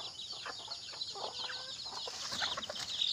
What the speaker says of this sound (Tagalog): Mga black astrol po yung yung sisiw na itim, black astrol po yan.